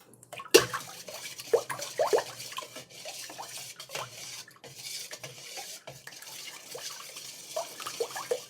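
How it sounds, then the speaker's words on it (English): Carrot juice is poured into milk in a home kitchen, giving a soft, continuous liquid trickle and splashing with light clinks of a container, moderately close and fairly quiet, with no talking. "I'm gonna mix the carrot juice to the milk right here."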